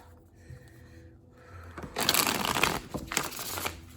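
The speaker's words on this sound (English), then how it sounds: "One more shuffle, guys." Tarot cards are shuffled close up, giving a papery riffling and rustling burst that swells midway and then trails off, with no talking.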